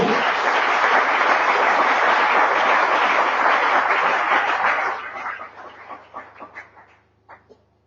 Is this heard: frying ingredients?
no